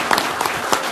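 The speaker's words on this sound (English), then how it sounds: "One more round of applause for these." Audience applause at a Jefferson County, Alabama commission meeting, a short burst of dense clapping from a room of people, fairly steady and close, with a faint voice or two mixed in.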